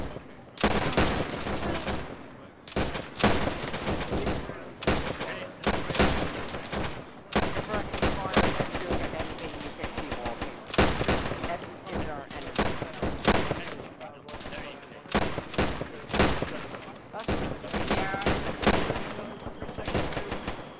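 Rapid rifle fire in Arma, a military video game, during a WWII Sicily campaign training session. Dense volleys and bursts of gunfire repeat almost nonstop, loud and close, with short pauses between them and voices talking underneath.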